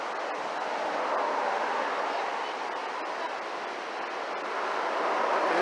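A huge, fast-flowing river below Lake Isabella rushes loudly in a steady, broad roar with no pauses and no talk over it.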